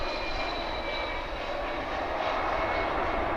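An Airbus A300 coming in at DFW airport, its engines giving a steady, broad roar that holds evenly at moderate distance throughout, with no talk over it.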